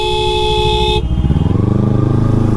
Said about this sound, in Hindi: भाई ये ट्रैफिक अलग लेवल का रहता है यार मरीन पे